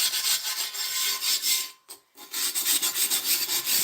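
A pumice stone scrubs rust off cast iron in a steady, harsh, close rasping, with one brief pause midway before the scrubbing resumes, and no voices.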